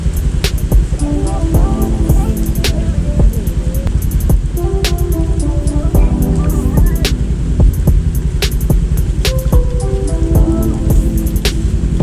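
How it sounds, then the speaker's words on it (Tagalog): Steady rain falling with a constant hiss and patter, dotted with sharper drips and taps on nearby surfaces. "Banayad pa rin naman ang ulan, pero sobrang dilim na ng langit."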